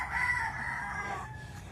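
A rooster crows once, clear and fairly close, with soft background noise and no talking.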